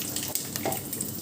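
A short burst of dense, even sizzling from frying for atukula upma, close and steady, with faint stirring noise and no talk.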